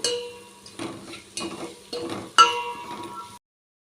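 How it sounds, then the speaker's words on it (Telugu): Tomato rasam ingredients frying in hot oil while being stirred in a pan, with a steady close sizzle, scraping strokes and a sharp metallic clink near the end before the sound cuts off. "ఇప్పుడు ఇదంతా దూరగా ఇలా ఫ్రై చేసుకున్నామండి ఆయిల్లో"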